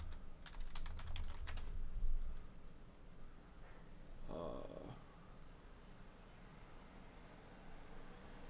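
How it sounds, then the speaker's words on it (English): Someone types a search on a computer keyboard, a quick burst of close, crisp key taps followed by a few scattered presses and quiet room noise. "So if we type in attention and focus supplements"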